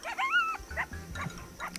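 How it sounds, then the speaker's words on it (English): A pack of coyotes in a walking simulator video game gives a run of high yips and whimpering howls, several short cries in quick succession over a low background. "It's the sound of a pack of coyotes coming for you."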